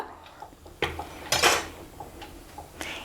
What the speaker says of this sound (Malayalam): എല്ലാം കൂടി ഇളക്കി ഉപ്പൊക്കെ കറക്റ്റാണോ എന്ന് നോക്കുക